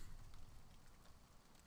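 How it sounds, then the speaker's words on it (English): Steady rain hiss in the Morrowind video game, a continuous soft broadband wash at low level throughout, with no voices. "The rain hasn't stopped."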